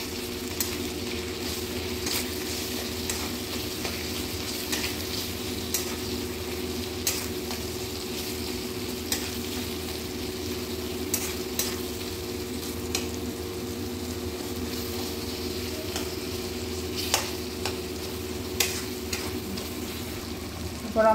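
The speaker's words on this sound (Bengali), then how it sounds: "ভালো করে মশলাটা কষিয়ে নেব।" Spice paste fries in a pan under constant stirring, a steady close sizzle with a spatula scraping throughout and occasional light clicks against the metal.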